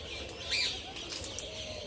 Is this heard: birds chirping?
yes